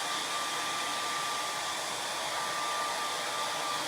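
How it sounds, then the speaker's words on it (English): A blow dryer runs with a steady, loud whooshing whir that holds unchanged throughout, with no voices over it. "I don't usually use the blow dryer because it's too loud."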